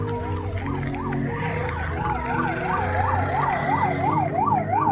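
An ambulance siren wails in a steady, fast up-and-down rhythm, fairly loud and passing nearby, over road and engine rumble heard during a motorcycle ride.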